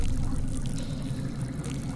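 Trickling, pouring water as a character drinks in the Saw video game, a steady continuous liquid flow throughout at moderate level with no talk.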